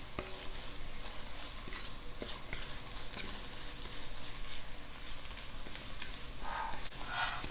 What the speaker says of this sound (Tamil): 1 டீஸ்பூன் மிளகாய்த்தூள் போட்டு ஆயிலில் நல்லா ஃப்ரை பண்ணிடலாம்.